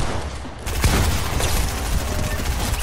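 A rapid SMG burst rattles in Fortnite, loud and close, a dense continuous spray of shots lasting a couple of seconds.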